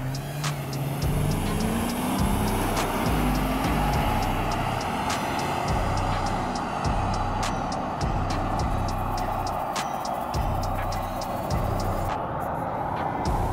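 A Mercedes W140 S500 and a W220 S500 launch together in a drag race on a closed-off road, their engines roaring loudly and steadily as they accelerate hard over the whole stretch.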